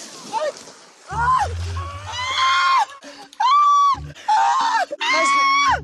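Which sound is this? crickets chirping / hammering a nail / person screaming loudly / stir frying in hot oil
person screaming loudly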